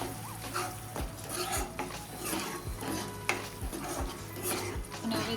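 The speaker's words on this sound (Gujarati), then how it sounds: "આપણે તેને હલાવી લઈશું" A spoon scrapes and clinks repeatedly through sweet corn curry gravy in a pan, with a faint sizzle of oil beneath the irregular strokes and no speech.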